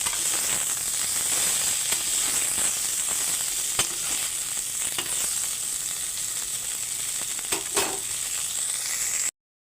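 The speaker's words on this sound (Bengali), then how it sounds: "এখানে ফুলকপিগুলো এখন ভাজা হচ্ছে।" Cauliflower florets fry in hot oil, a steady close sizzle running throughout with occasional small pops and crackles, no voices.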